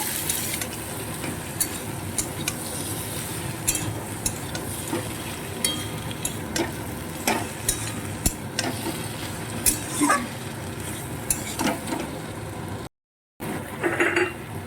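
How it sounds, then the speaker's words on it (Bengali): A utensil clinks and scrapes steadily against a pan while chopped tomatoes are stirred in with prawns and spices, over a soft sizzle, with no talking. "এবার আমি কেটে রাখা টমেটোগুলো দিয়ে দিচ্ছি ওকে একটু নাড়িয়ে চাড়িয়ে নিব"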